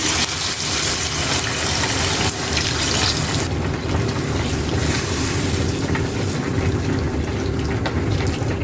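Water pours steadily into a pan of potato and egg curry, a loud continuous rushing and bubbling close up, with no talking.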